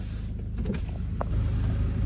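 A car idling and creeping as it is carefully parked, a steady low engine rumble with a brief higher mechanical whir partway through, close and alone.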